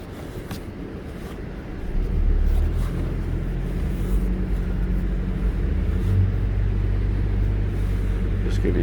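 A 2022 Toyota RAV4 Hybrid crawls in first gear across soft beach sand at Oceano Dunes in trail mode with traction control off, its low steady engine and drivetrain rumble swelling after a couple of seconds and holding evenly.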